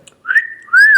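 A voice whistles a catcall imitation, two loud, clear rising-and-falling notes with a short pause between them, heard alone and close.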